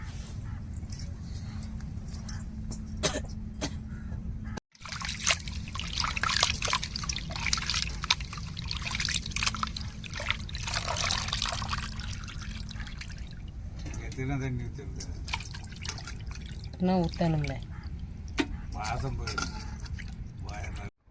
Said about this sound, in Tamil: இப்போ சுத்தமாக அலசி எடுத்துட்டு